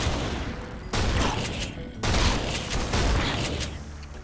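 Weapons firing in the Techguns video game mod, a run of rapid, loud gunshots in three bursts starting around one and two seconds, each a sharp blast trailing into a dense, crackling echo.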